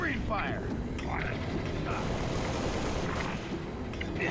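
Sustained rumbling gunfire and explosive bursts from a Halo Reach co-op campaign battle, dense and continuous throughout, with a voice briefly heard over the din.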